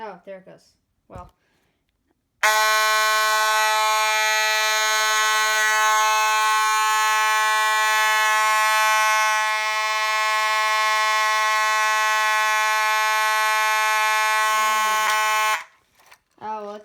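Loud, close, continuous blare from an ADT Simplex T-bar fire alarm horn, holding a steady buzzing tone for about thirteen seconds, with brief talking just before it starts and after it stops.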